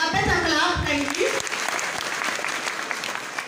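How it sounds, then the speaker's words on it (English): Graduation ceremony audience applauding a graduate, steady clapping throughout with a voice speaking over the first second or so. "A better clap, thank you."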